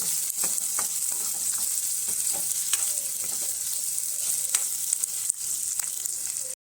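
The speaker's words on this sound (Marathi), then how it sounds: "बारीक चिरलेले कांदा चांगला गुलाबी रंगापर्यंत आपण भाजून घेऊ" Finely chopped onions fry in oil in a pan, a continuous close hiss and sizzle with occasional stirring clicks and no talking.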